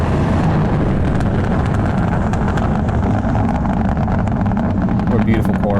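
A race car engine runs steadily on a course, a loud continuous roar with wind buffeting throughout, recorded close and dense, with no clear pauses.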